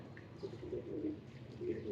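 A pigeon coos softly and repeatedly against a steady background hum, faint and fairly close, with no talking.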